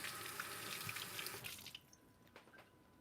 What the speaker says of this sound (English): So I'm just kind of rinsing these, giving them a quick wash